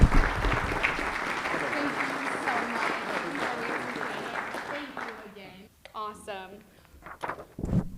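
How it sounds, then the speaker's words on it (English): A crowd at a founders networking event breaks into applause that fills the room and then fades, giving way to someone talking near the end. "Let's give him a round of applause here."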